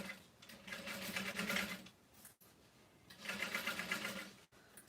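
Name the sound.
sewing machine stitching vinyl tote panels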